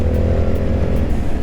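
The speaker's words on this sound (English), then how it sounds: "as you give it gas, you can feel the V-twin coming to life" A 2022 Indian FTR Championship Edition's V-twin engine revs steadily under throttle, a loud, close, continuous rumble with no voices over it.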